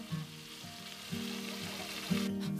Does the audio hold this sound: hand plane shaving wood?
no